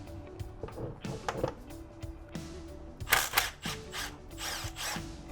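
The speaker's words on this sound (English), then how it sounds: "Power tools." A power tool whirs in short bursts close by, with clanks and rattles of metal parts between runs, during brake work on a KX65 minibike being fitted with a big brake kit.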